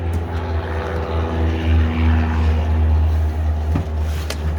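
A Polaris RZR Pro R turbo engine running on a dyno with dyno tires fitted: a loud, steady low idle rumble with strong humming harmonics, close and continuous, no talk.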